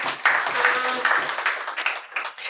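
Audience applause after the government's budget allocation is announced at a UNDP memorandum signing, a dense, steady wash of clapping from many hands that holds throughout and thins slightly toward the end.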